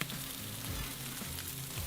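Salmon wings sizzling in a frying pan, a steady, fairly quiet hiss and crackle of hot fat that holds evenly throughout without any voices.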